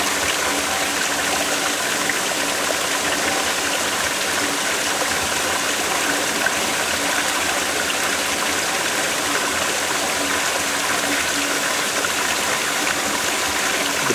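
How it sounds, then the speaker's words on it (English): A waterfall in Japan roars steadily and evenly, a constant broad rush of falling water with no voices or breaks. "Have a look at the waterfall."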